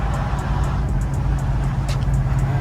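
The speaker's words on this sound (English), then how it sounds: "The idle is good." A V8 wagon engine idling, a loud close low rumble with steady lumpy pulsing and some high ticking above it.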